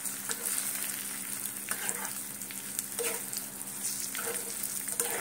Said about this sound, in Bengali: গুড় দিয়ে এবারে কুলগুলোকে একটু নাড়াবো।